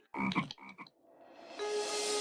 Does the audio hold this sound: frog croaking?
yes